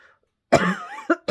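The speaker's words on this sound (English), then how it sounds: "I was coughing a lot" A few harsh coughs close by: one longer, rasping cough followed by two short, sharp bursts, with silence before.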